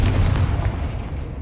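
Confringo blasting spell explosion in the video game Hogwarts Legacy, a loud booming burst up front that rumbles and fades away over about a second.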